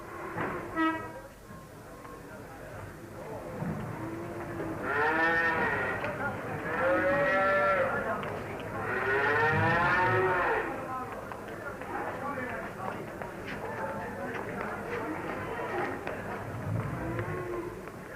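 Cattle low repeatedly at a busy 1965 Kerry cattle and horse fair, with several loud drawn-out moos clustered in the middle amid a steady outdoor crowd murmur and a faint train-like rumble underneath.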